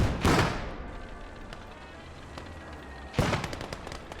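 Mortar thumps and gunfire in a war video game: two loud, sharp blasts about three seconds apart, each with a long crackling decay, over a low background rumble.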